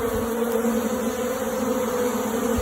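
A swarm of Japanese honeybees makes a steady, close, loud buzzing drone with no break and no voices.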